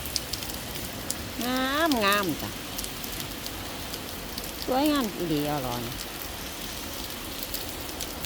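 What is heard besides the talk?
rain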